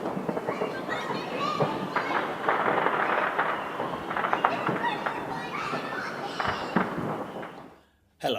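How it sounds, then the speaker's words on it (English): Distant New Year's fireworks crackle and pop in scattered bursts beneath children shouting and playing nearby, ending in a sudden brief silence. "You can hear the fireworks, you just can't see them."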